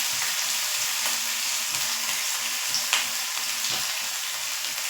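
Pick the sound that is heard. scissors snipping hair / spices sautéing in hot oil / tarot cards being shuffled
spices sautéing in hot oil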